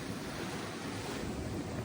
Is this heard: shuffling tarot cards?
no